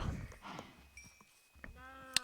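Minecraft video game farm animals, with sheep bleats and cow moos sounding in quick succession, several short calls and a sharp click near the end, fairly close and clear with no talking.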